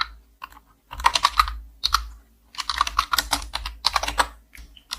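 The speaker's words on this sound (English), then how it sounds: "So let's type this." Rapid typing of web code on a computer keyboard, dense bursts of crisp close key clicks separated by short pauses, loud and alone.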